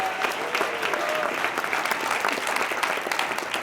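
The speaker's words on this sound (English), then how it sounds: "Would you please give them a big round of applause?" Steady audience applause at a Chicago speech by a congresswoman, a dense continuous roar of clapping from a large crowd that holds evenly throughout.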